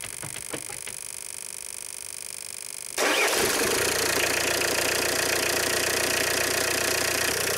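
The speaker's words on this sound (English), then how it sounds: "Start the engine." A car engine cranks and starts after a crankshaft damper pulley change, then settles into a loud, steady idle that runs on to the end, with nobody talking.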